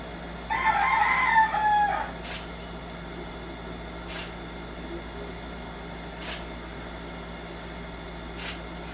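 A rooster crows once, fairly close and loud, then the scene settles into a quiet background with a few faint clicks.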